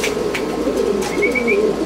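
Pigeon cooing, a racing pigeon from a breeding loft, giving soft low rolling coos over a steady background hum, close by and fairly loud for about two seconds.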